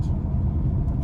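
A supercharged fifth-generation Chevrolet Camaro SS with an LSA V8 on flex fuel gives a deep, steady, close engine rumble that holds for about a second without a clear rise or drop.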